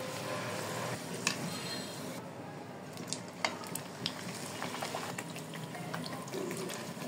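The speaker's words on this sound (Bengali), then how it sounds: "এভাবে একে একে করে সব ভেজে নিচ্ছি" Puris sizzle and bubble as they fry in hot oil, a steady quiet crackle with occasional small pops and clicks, with no speech.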